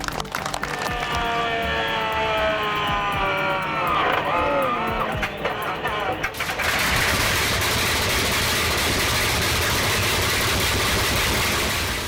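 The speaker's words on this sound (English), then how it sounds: "the H57RC Hercules shines with its circular multi-cylinder layout" A vintage Bristol Hercules radial aircraft engine runs steadily and loudly, its low, throbbing drone shifting midway into a rougher, broader roar that continues unbroken to the end.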